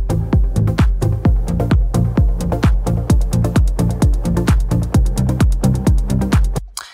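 Battery 4 drum pattern with rapid 16th-note closed hi-hats, an open hi-hat and punchy kicks, steady and loud with a driving even rhythm for about seven seconds, no talking.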